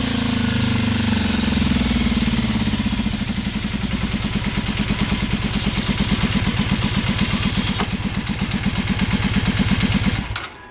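A Yamaha RZ350/RD400 two-stroke motorcycle engine runs close up, revving low at first, then settling into a rapid, even ringing putter before it cuts off abruptly.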